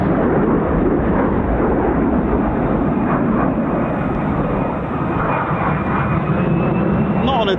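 An F-35 Lightning stealth jet roars on takeoff at a military airshow display, a loud, sustained, broadband thunder that fills the air continuously, with a faint rising whine threading through it.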